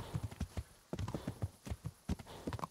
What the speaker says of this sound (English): let's get off the horse